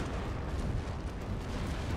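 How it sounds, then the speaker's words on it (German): Cannon fire hits a ship in the Anno 1701 strategy game: rumbling, low booms and bursts rolling together in a dense, continuous barrage, loud and close, with no talk. "Eines ihrer Schiffe wird angegriffen."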